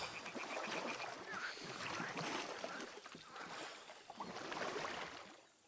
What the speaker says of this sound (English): Did I hear a duck?